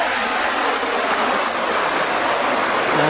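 Tarimis Falls, a waterfall at Sitio Yagit in San Rafael, Montalban, Rizal, roars steadily and loudly up close with a dense, unbroken rush of falling water and no voices.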